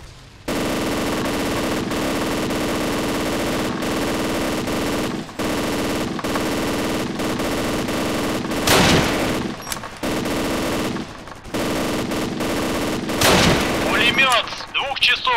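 Gunfire in an Arma 2 ACE team-versus-team military game: sustained machine-gun bursts and rifle fire with brief pauses, plus a couple of louder blasts near the middle and end, loud and dense throughout.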